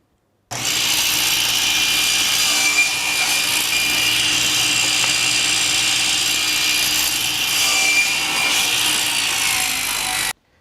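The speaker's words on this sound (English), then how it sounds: "I'm going to cut those at the table saw using my crosscut sled." A table saw fitted with a crosscut sled runs through wood in one continuous, loud, steady whine with a bright edge, starting abruptly and stopping sharply after about ten seconds.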